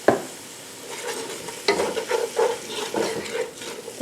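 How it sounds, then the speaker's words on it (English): Celery and onions cook on a stovetop with a close, crackling sizzle that swells and fades as the vegetables are stirred, punctuated by utensil scrapes. "If I'm cooking celery and onions on the stove like this"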